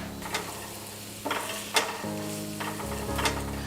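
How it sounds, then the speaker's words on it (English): Steady sizzle of onions frying in a pan, with a few clinks of a utensil stirring, close up and alone. "put some garlic powder and turmeric on top of this sizzling onion"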